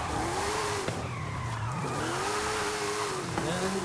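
Forza Horizon 5 car held in a sideways handbrake-and-clutch drift, tires squealing in long wavering tones over a steady engine drone, with the throttle shifting the pitch; loud and continuous with no talk.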